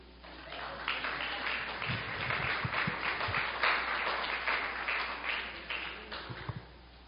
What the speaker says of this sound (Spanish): Un aplauso si quieren.